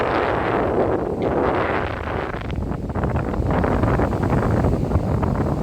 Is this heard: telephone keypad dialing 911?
no